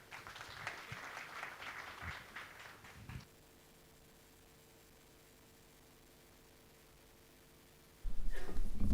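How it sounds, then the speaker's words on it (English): Crowd applause at an IFP political manifesto launch for local government elections: faint, scattered clapping for a few seconds, then near silence, before a louder burst of noise returns at the end. "Give him a round of applause."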